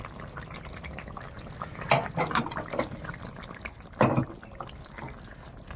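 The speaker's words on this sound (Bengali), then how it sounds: "এবার ঢাকা দিয়ে দিই, ফুটুক।" Rohu fish curry with okra simmering in a covered pot, a soft steady bubbling with a few louder clinks or lid knocks standing out over the quiet wet churn.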